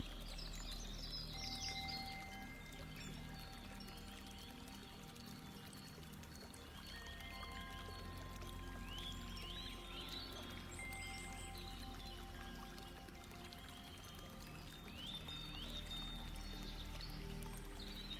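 Faint birdsong chirps and trills scattered over a soft, steady background wash, distant and quiet throughout.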